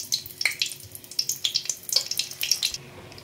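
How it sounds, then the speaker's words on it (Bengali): Dry red chillies splutter in hot mustard oil in a pan, a quick series of sharp pops and crackles over a low sizzle, close and alone. "তেলটা প্রায় গরম, শুকনো লঙ্কা ফাটিয়ে দিয়ে দিচ্ছি।"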